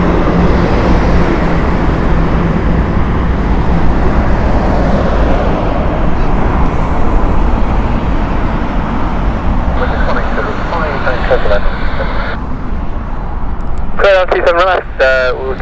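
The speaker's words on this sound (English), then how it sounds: "up next is an Airbus A320. It's a Gothenburg flight." An Airbus A320 on a Gothenburg flight at Heathrow Airport, a broad steady roar of jet engines continuing throughout, with voices talking briefly over it toward the end.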